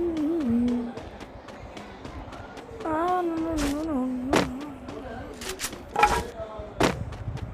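Kar98 rifle shots in a mobile battle-royale match during a guild tournament: several loud, sharp cracks at uneven intervals over game music and effects, with someone talking throughout.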